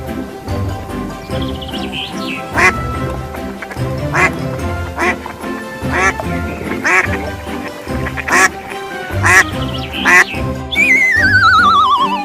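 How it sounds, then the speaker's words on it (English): A duck quacks in repeated loud, clear calls at an uneven rhythm, with a few chirpy tones and a rising whistle near the end over a busy background. "Q for quack"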